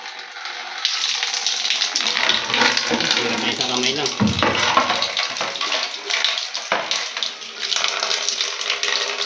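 Tap water runs steadily and loudly during a resin acid test with muriatic acid, a continuous gushing rush lasting the whole stretch while a person speaks briefly over it.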